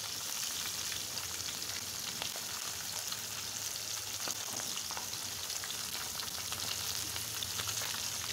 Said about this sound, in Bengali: এখন প্রথমত মাছগুলা ভাজা চলছে।